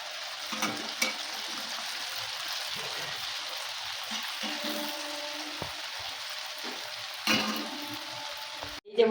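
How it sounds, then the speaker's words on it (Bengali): Homemade Bingo-style chips frying in hot oil, a steady close sizzle running throughout with a few sharper crackles and a clatter at the end. "এবার ভেজে নেব।"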